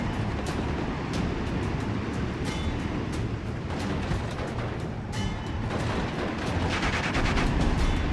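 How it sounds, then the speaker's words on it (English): Mortar rounds and small-arms gunfire in a Steel Division: Normandy 44 battle, a dense continuous din of cracking shots and dull thuds with no voices, swelling slightly louder toward the end. "Drop some mortar fire on them."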